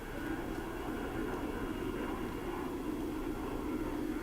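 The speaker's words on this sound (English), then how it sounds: "look at that shot of the plane just flying across." A fixed-wing airplane flies across overhead, giving a steady, fairly faint rushing drone that holds evenly throughout, with no voices.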